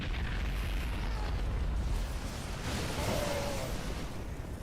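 A missile explosion in a StarCraft II match, a dense, sustained rumbling blast with crackling bursts spread across the whole clip, loud and continuous.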